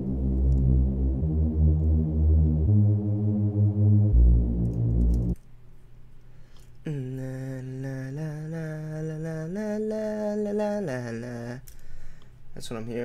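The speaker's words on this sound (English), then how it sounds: "and it sound the bass line sounds like this." Synthesized EDM bass line heard alone as a loud, steady pattern of repeated low notes in shifting steps, followed by a brighter, richer synth phrase carrying sustained tones.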